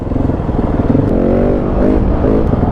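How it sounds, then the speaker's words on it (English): Husqvarna 701 adventure motorcycle with an aftermarket exhaust, a close, loud, throaty engine note that rises and falls in steady revs throughout. "Now it does sound quite throaty as a standard bike"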